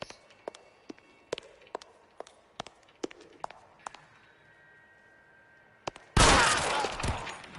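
Gunshots in the video game L.A. Noire: a run of quiet, evenly spaced sharp cracks, a short pause, then one sudden loud burst that rings out to the end.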